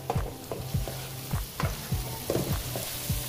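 A spoon stirs an apple gourd and meat curry in a pot, giving a soft continuous sizzle broken by about a dozen rhythmic scraping strokes, close and with no talk.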